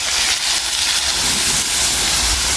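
Water is poured into a hot pot of stewing potatoes, carrots, homemade tomato and ribs at a country dacha, making a loud, steady hissing rush that lasts the whole moment with no talking.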